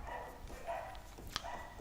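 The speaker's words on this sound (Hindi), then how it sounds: "ये कुत्ते भी पागल हुआ है" Dogs bark at a distance outdoors, with a few scattered yips and barks over a noisy background hum, fairly faint and intermittent.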